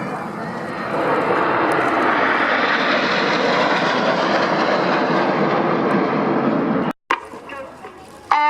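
An aircraft engine drones loudly and steadily at the Royal Navy air show at RNAS Yeovilton during an aerobatic roll, then cuts off abruptly, followed by noisy background crackle.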